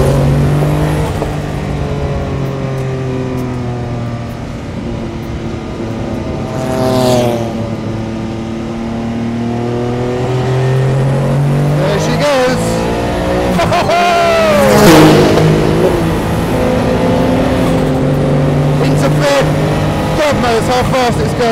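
A Porsche 962 Le Mans race car's turbocharged engine drones loudly from inside the cockpit, its pitch climbing under acceleration through the gears, with sweeping rises and dips and a sharp surge midway as the turbo comes on boost, while a voice talks over it.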